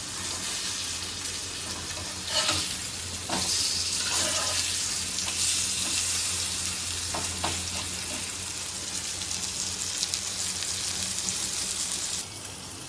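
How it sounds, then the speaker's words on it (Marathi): Steady sizzling of kingfish frying in a pan, with a few clattering bursts as it is handled and turned, then the sizzle softens near the end. "याच्यावर झाकण ठेवलेलं तर काढायचं आणि याला पलटी करायचं सुरमईला"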